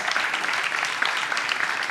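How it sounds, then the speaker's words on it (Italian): An audience at an outdoor festival show claps steadily, a dense patter of many hands at moderate volume, continuing without a break. "Un applauso."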